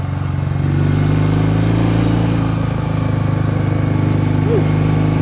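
A 1967 BSA Spitfire Mk III twin-cylinder motorcycle engine drones steadily while riding, a loud close throbbing exhaust note with a slight rise in pitch, alone without talk.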